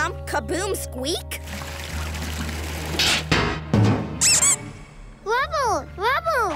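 Several high, bouncy squeaks chirp in quick succession amid splashing and gurgling sounds, with brief speech early on.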